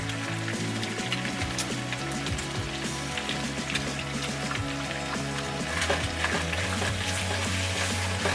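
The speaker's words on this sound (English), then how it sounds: "Now we're just going to take and drop in about a pound of our ground beef." About a pound of ground beef frying in bacon grease for game day nachos, a steady, dense sizzle and crackle that stays loud and constant throughout with no talk.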